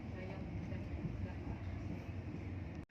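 The KA Sritanjung passenger train pulls into Kertosono station with a low, steady rumble of rolling carriages, heard from inside and fairly faint, ending in a sudden cutoff.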